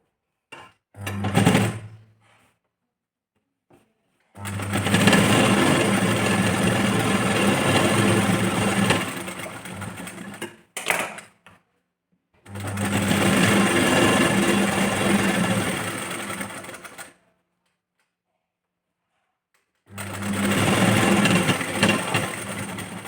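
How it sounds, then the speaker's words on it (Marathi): A sewing machine stitches a blouse in three long, loud, steady whirring runs of several seconds each, with short clicks and handling sounds in the silent gaps between. "यावरती परत एक दाब टिप आपल्याला देऊन द्यायची"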